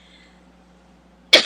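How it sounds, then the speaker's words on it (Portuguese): A single sharp cough bursts out near the end after quiet room hum, close and loud, during a plenary session. "como parece que vou começar a tossir"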